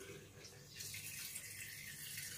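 Cold salted brine pours over cucumbers for Hungarian fermented pickles, a steady close liquid splash and trickle that grows fuller and brighter partway through, with no talking.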